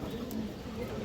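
Low, soft cooing from a light-colored China Khaki pigeon held in hand, a steady murmur close by with faint rustling in the background.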